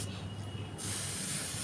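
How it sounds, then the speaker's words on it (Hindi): A hand spray bottle mists water onto seedlings with a soft, airy hiss. A brief burst comes first, then a longer spray of about a second follows, quiet and close with no voices. "इस तरह से दूर से आप देख लो, ऐसे पानी का स्प्रे करना होता है।"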